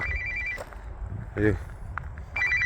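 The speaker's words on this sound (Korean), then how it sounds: "전화가 또 오네요" A telephone rings in short electronic trilling bursts at the start and end, fairly faint, with brief footstep-like sounds between.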